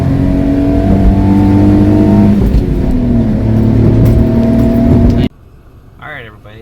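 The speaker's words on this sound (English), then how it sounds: "the van model is louder than the truck model because the engine's right back there" A Honda Acty van engine, mounted right behind the cabin, drones loudly with a steady rising and falling hum as it drives, then cuts off abruptly, after which a voice speaks briefly.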